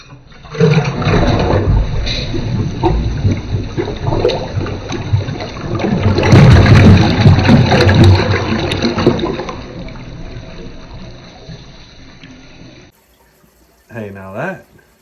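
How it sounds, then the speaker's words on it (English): A newly plumbed toilet in an old house being renovated flushes with a loud rushing roar and swirling water that gradually fades to a trickle, recorded up close, with a brief voice near the end. "this is the first flush."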